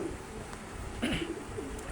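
A pair of old-bloodline pigeons, a male and a female, give soft low coos that are faint and brief against a quiet background hiss.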